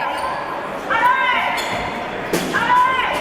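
A basketball bounces on a hardwood court during a women's play-off game as it is brought up the floor, a couple of thumps heard under lively French commentary and arena noise.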